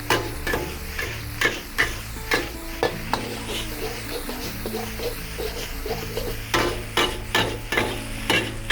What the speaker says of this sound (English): Now you fry the egg.